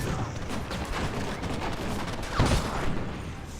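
Gunfire in a Red Dead Redemption Remastered western shootout: a steady stream of rapid shots at moderate distance, dense and continuous, with one sharper crack standing out partway through.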